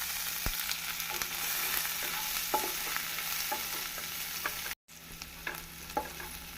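A steady, hissing sizzle of onions frying in a pan, with occasional scrapes and clinks of a spatula stirring, heard up close with no talking.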